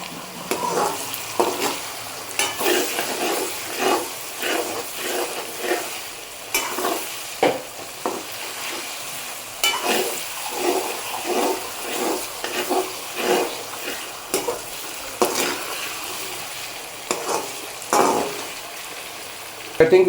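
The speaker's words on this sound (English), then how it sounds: "I think we've gone ahead and mixed and fried this enough for now." Corn being stirred and fried in a pan as part of a chicken biryani: steady scraping strokes of a spoon against the pan come in an uneven rhythm over a continuous sizzle, close and fairly loud, with no talking.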